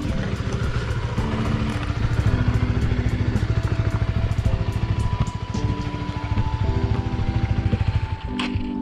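A Honda Supra GTR 150 motorcycle engine runs at a steady idle close by. It makes a constant pulsing hum with faint mechanical clatter on top.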